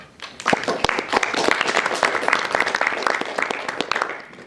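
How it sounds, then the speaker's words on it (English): An audience at a debating society event on LGBT+ rights gives a full round of applause, dense and sustained clapping with a few sharp individual claps standing out, loud and close throughout. "I think you should all give yourself a big round of applause."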